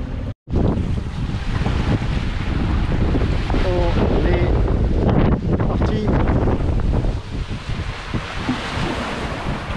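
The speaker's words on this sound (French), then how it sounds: "Ça y est, le vent est rentré." Strong wind buffets the microphone while waves wash and slap around a sailboat at sea off the Canaries, loud and continuous, with a brief voice speaking French near the start.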